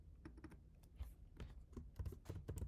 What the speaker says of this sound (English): Let me actually type it here as well.